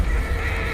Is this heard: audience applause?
no